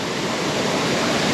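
A waterfall in the southern forests of Western Australia pours into a deep pool below, a loud, steady broadband roar of falling water close by with no pause.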